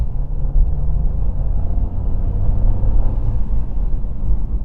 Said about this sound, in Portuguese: eu vou dar uma aceleradinha aqui com vocês